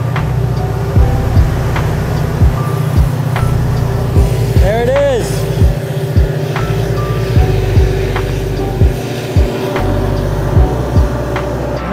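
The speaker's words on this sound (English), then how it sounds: "You can hear the train coming." A train rolls past along the James River, its wheels clacking steadily in a rhythmic beat over a low rumble, close by, while a person briefly speaks.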